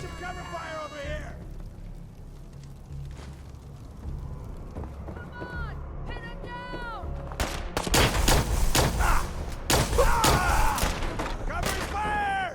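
Gunfire erupts in Fallout 4 combat, with rapid shots and loud bursts building in the second half, mixed with shouted voices and game sounds.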